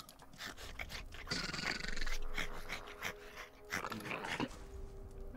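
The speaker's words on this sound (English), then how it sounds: "It's a good little doggy." A dog in a fantasy video game, heard amid the game's sound effects and background noise, with short animal vocal bursts at close range throughout.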